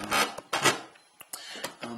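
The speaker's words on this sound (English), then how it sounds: "That's the sound of the tripod moving." Brief scraping and rubbing noises with a few light knocks, close by and fairly quiet, like equipment being shifted.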